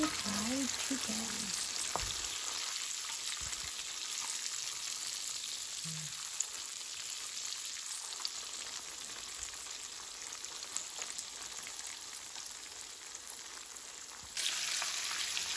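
Crispy fried chicken sizzles steadily in hot oil, a dense continuous crackle that stays close and even throughout, with a few brief knocks partway through.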